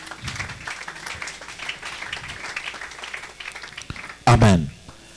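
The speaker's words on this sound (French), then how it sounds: "Acclamons pour la gloire de notre Dieu." A church congregation bursts into a short, loud round of applause near the end of a worship service, following spoken exhortation from a preacher.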